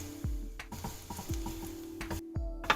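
Garlic being stirred in a pan over medium-low heat, with soft scraping strokes of a utensil and a faint steady sizzle, close and quiet with no talking.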